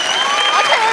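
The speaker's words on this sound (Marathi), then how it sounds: "जोरदार टाळ्या." An audience at a stage comedy show greets the chief guest with a short, loud burst of applause, dense clapping lasting about a second.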